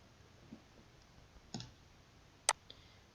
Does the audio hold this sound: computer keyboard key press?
yes